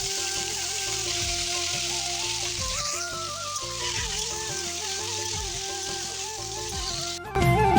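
Curry fries in a pan with a continuous hissing sizzle that holds steady throughout, while a melodic background tune plays over it and a brief clatter comes near the end.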